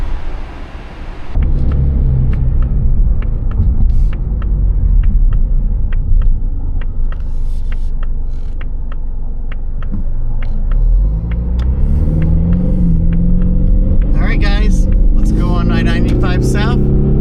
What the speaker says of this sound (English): And that is sport mode, by the way, to go ahead and propel us forward quicker.